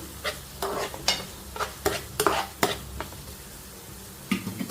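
Thinly sliced onions frying in a pan, a string of quick scraping stirs over a soft steady sizzle, close and fairly clear, without speech.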